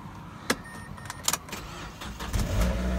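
A 2006 Mazda car idles with its door open and brakes on, a low steady engine hum with a few sharp clicks and taps, rising to a heavier rumble near the end.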